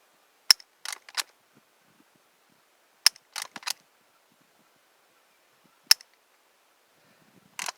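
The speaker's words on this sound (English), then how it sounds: "Dry fire practice." A firearm is dry fired during shooting practice, with a pistol or a Henry rifle mentioned, giving three sharp isolated trigger clicks, each followed by quieter mechanical rattles of resetting, spaced a few seconds apart in a silent room.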